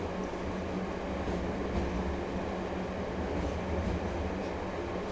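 Train car passing by in the video game Let It Die, a steady, dense rumbling roll of wheels on rails that holds at even loudness throughout, with no voices.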